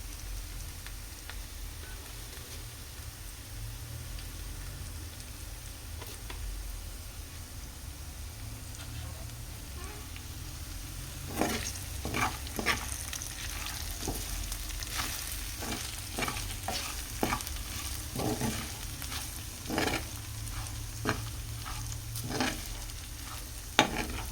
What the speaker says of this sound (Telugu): ఇలా బెండకాయలన్నీ ఫ్రై అయిన తర్వాత ఇందులో అయితే కారం వేసేసుకున్నాం.